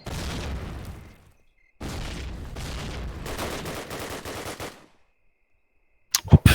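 Gunfire and grenade blasts from Call of Duty: United Offensive during a competitive match: two long stretches of dense rapid automatic fire separated by a short gap, then silence and a few sharp loud bursts at the end.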